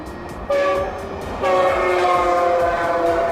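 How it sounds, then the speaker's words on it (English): A Metrolink commuter train blasts its loud horn close by in two long pulses, the second longer and louder than the first, over the rumble of the moving train. "the Metrolink's horn is way louder than Amtrak's"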